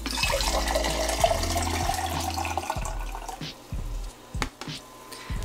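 Processing liquid from an E-6 color reversal film kit splashes and trickles as it is poured out of a tank, a steady gurgling stream for a few seconds that thins into scattered drips.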